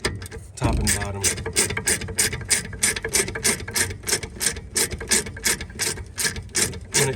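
A ratchet wrench loosens 7 mm Allen caliper slide pins on a Mercedes E250 rear brake, giving a close, rapid series of rhythmic clicking ratchet strokes throughout.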